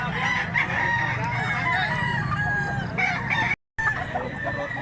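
A big red gamefowl bullstag rooster crows at a market in Mantalungon, Cebu, with clucking from other fowl around it and a brief dropout near the end.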